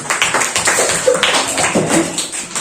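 A class of students claps hands together in a classroom, a short burst of brisk, uneven applause from several people nearby.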